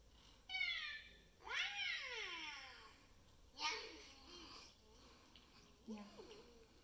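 A Makeblock mTiny toy robot plays a series of electronic cat meows, several distinct mews rising and falling at close range with short pauses between them.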